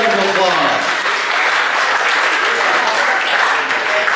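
Sustained applause from diners at a recognition banquet, a loud, even roar of clapping close by with voices blending into it throughout.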